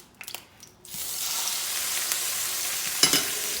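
Tuna fish hits hot olive oil in a stovetop pan at medium heat, breaking into a loud, steady sizzle after a few brief clatters, with a sharper burst of spitting near the end.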